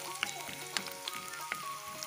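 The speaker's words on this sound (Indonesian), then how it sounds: "Ini aku goreng dulu sampai kecoklatan ya teman-teman." Ingredients with candlenuts fry in a pan until browned, giving a steady close sizzle with soft pops and the occasional scrape of stirring.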